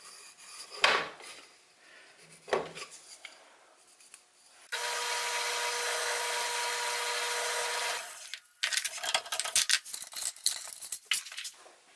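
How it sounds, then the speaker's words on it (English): A 3/16 inch bit drills halfway through a pine block, a steady, bright grinding whir lasting a few seconds, flanked by scraping and knocking handling sounds before and a rough, choppy burst of bit noise after. "I'll drill halfway through the block with a 3/16 inch bit"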